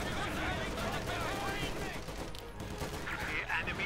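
MG-42 machine gun fire and other gunfire in a Company of Heroes 2 1v1 match, rapid bursts and fusillades over busy battle noise, with commentator speech running over it.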